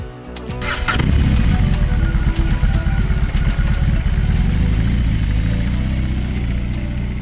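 A BMW R 18 Bagger with an 1800cc twin-cylinder engine cranks and fires up, then settles into a loud, deep, pulsing idle that carries on steadily nearby.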